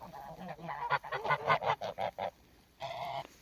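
Geese honking close by in a quick run of about a dozen loud, nasal calls, then a short pause before one longer honk.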